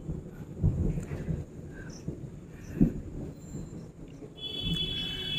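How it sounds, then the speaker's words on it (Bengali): Thunder rumbles in a rainstorm, faint low booms swelling and fading at a distance, with one stronger roll partway through, under quiet background noise. "আকাশও ডাকছে।"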